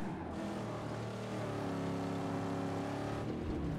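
A car drifts in the video game Mad Max, its engine a steady, droning rev heard close up with changing pitch that holds throughout and eases briefly near the end.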